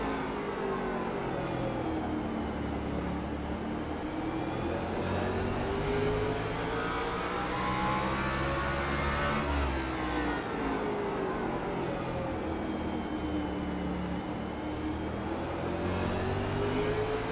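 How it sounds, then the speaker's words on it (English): Chevrolet and Toyota race car engines in a racing video game at Martinsville, a steady overlapping engine drone with rising and falling pitch sweeps as cars pass, continuous and fairly loud for the whole stretch. "a listen in on the different engine tones, if you could say, engine sounds between the Chevrolet and the Toyota"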